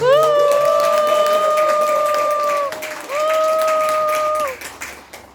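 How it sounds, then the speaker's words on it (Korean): Applause and cheering from a crowd at a Korean public gathering. A loud, sustained tonal cry or cheer sits above the clapping, breaks briefly, then resumes before fading out. "커다란 박수와 함성으로 경례를"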